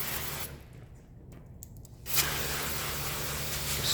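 A spray bottle mists water across a Kia Telluride front door window while tint film is applied, with a broad hiss of spraying, a brief quiet pause, and then a renewed close spray.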